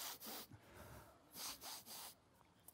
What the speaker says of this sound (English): She's sniffling.